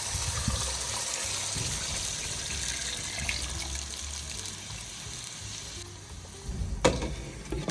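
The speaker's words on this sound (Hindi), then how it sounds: "हम 4 गिलास पानी ऐड कर रहे हैं।" Water poured from glasses hisses and sizzles into a hot pot for a rice and mince pulao, a steady frying crackle with splashing toward the end.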